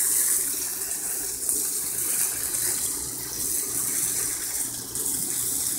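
Water pours steadily into an aquaponic grow media bed, a constant close hiss and gush running without pause and without voices.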